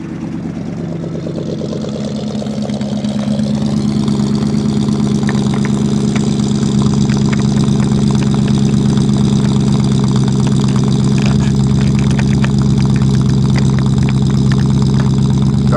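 A 1974 Dodge Dart with a 318 engine and glasspack exhaust idles steadily and loudly close by, a deep rumbling drone that swells slightly after the first few seconds and holds even, with no talking.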